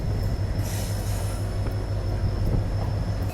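A train runs through New Misamari railway station: loud continuous rumble and clatter of wagons with a low steady drone and a brief high wheel squeal, close by, with no talk.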